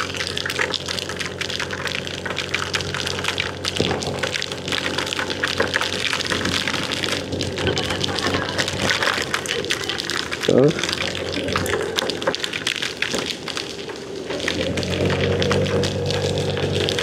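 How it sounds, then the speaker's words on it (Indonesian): Heavy rain pours down during a motorbike tour in Lombok, a dense, loud, unbroken roar of water and rushing noise lasting the whole stretch, easing slightly near the end before swelling again. "Tuh hujan lagi, gede lagi, nanti kecil lagi."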